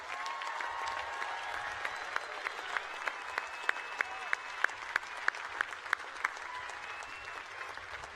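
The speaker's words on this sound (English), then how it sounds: "Please join me in saying thank you and applauding these outstanding professionals" Audience applause for faculty and staff at a university commencement ceremony, a steady, moderately distant roar of many hands clapping for several seconds, with a few louder individual claps standing out near the middle.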